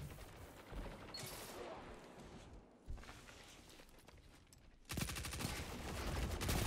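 Automatic weapon fire in the online shooter Destiny during an Iron Banner match: bursts of gunfire with rapid repeated shots build into a loud sustained stream near the end.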